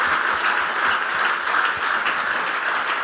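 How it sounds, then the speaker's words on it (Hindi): A church congregation gives a loud, sustained round of applause for Jesus, dense clapping filling the whole stretch at a steady level with no voices over it. "हम एक दफा यीशु के लिए जोरदार तालियां बजाएंगे"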